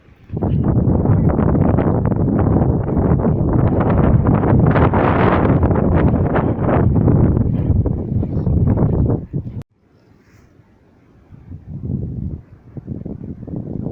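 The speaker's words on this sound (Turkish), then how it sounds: "Sadece biraz fırtına var, biraz rüzgar biraz, var." Loud, roaring storm wind buffets the microphone outdoors for several seconds, then cuts out abruptly, followed by quieter gusty rumble.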